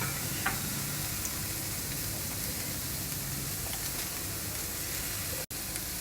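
Shredded cabbage and one grated carrot fry with a steady, close sizzle in a pan on an Indian home stove, with faint clicks of the food being tossed and stirred and no talking.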